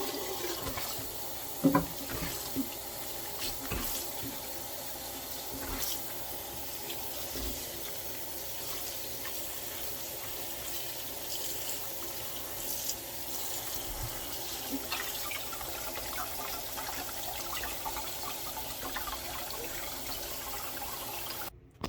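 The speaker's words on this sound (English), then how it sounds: "One more rinse." Tap water runs steadily into a sink while dandelions are rinsed, a constant close splashing flow with a few louder knocks and splashes, lasting over twenty seconds before stopping abruptly.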